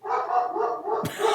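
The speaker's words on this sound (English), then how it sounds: "And that's my dog Sammy" A dog barks indoors in a short run of close, fairly loud barks and yips, ending with a sharper bark.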